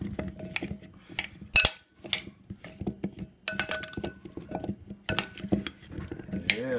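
Garden potatoes being coated in a dish give irregular close clinks and scrapes of utensils against the dish, in uneven bursts with short pauses.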